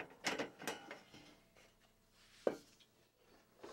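Mechanical clicks and ratcheting knocks from a Hi-Tech modular lifting system raising a floor panel, sparse and fairly faint, with a couple of sharper clanks standing out alone.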